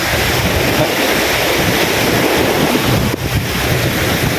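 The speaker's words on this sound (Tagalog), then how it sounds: "dagat dito sa amin" Loud, continuous rush of sea surf mixed with heavy wind buffeting the microphone, no voices, on the coast of Batangas.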